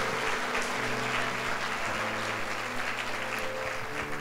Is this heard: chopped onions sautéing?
no